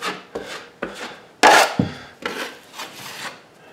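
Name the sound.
spreading hot mud joint compound over drywall patch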